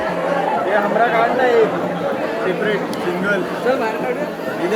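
Dense crowd chatter in a packed darshan queue at the Aai Ekveera temple, many overlapping voices forming a loud, continuous babble close around.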